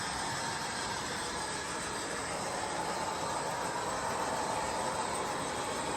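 A model Cavalex Class 56 locomotive hauls 22 PTA wagons, five of them loaded, as it comes off a helix on a layout. A steady, even rumble and hiss carries on throughout with no voices.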